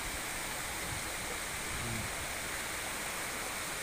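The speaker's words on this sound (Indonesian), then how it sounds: "air terjun ya." Waterfall at Subik Tuha in South OKU, a steady broadband roar of falling water that fills the whole clip at constant level, with no voices.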